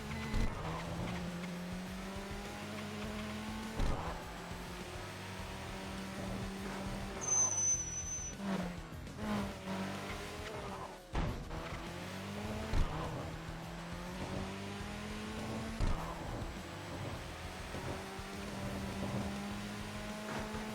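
A red Honda NSX races in a video game, its engine droning and shifting pitch through gear changes, with brief tire squeals and skids over a steady loud roar.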